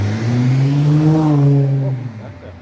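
A car revs loudly on a street in Durbanville, Cape Town, its engine note rising and holding strong for about two seconds before easing off, close by and alone with no talking.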